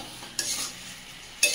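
Meat being stirred in a pan as it is fried down, with a couple of sharp scraping strokes of a spoon over a soft sizzle, close and without talk.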